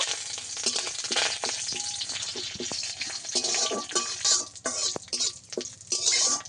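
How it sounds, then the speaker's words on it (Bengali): Cumin seeds and curry leaves frying in hot oil give a dense, close sizzle throughout, broken by the scrape and clink of a spoon stirring the pan. "জিরা আর কারি পাতাটাকে ভালো করে ভেজে নেব।"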